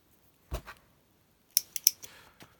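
Scissors cutting crochet yarn at the end of a hat edge: one soft snip, a pause, then a quick cluster of sharp, close metallic snips and a faint final click.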